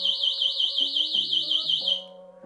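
Locator alarm on a Beeper Max Gen 2 electric scooter: a loud, shrill warbling siren pulsing steadily for about two seconds, then cutting off, with faint low tones beneath.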